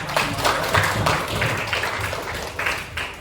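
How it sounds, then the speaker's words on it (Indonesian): Applause from a group at a school gathering on positive school culture: a dense, steady wash of many hands clapping together, fairly loud throughout the short burst. "tepuk tangan buat"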